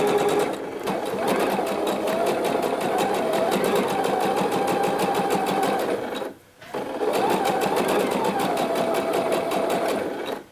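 A domestic sewing machine runs a classic straight stitch of 2.5 mm length, a steady fast close mechanical whir with rapid needle ticking, briefly pausing about two-thirds through before resuming at the same pace.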